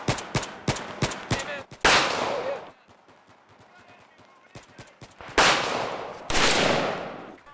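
Colt M1911 semi-automatic .45 pistol shots, a quick string of five sharp close reports with echoing tails, a pause with faint clatter, then two more loud booming shots.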